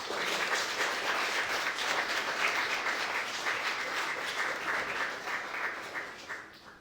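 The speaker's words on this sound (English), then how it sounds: "please, everyone give a round of applause to Owain Williams" Sustained applause from a live podcast audience, dense and steady clapping that holds for several seconds before tapering slightly at the end, with no talking over it.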